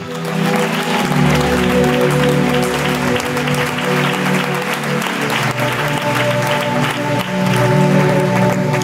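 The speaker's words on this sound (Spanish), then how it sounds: "¿Cuántos aman a Jesús y le dan un aplauso a Él?" A large church congregation applauds loudly and continuously, dense clapping filling the space without pause, with a sustained musical tone underneath.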